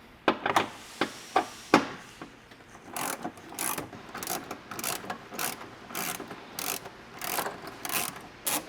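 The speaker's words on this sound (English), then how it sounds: "we can go ahead and take the 12 millimeter socket, our extension, and we can take out the bolts." A 12 mm socket ratchet on an extension loosens the lower airbox bolts of a 2016–2023 Toyota Tacoma, a few sharp clicks followed by a run of rhythmic ratcheting bursts, close and alone.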